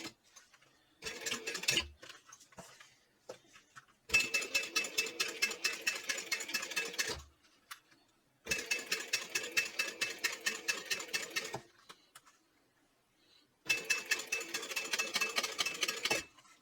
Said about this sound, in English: I want to top stitch 1/8 of an inch on both sides, making sure that my seam is open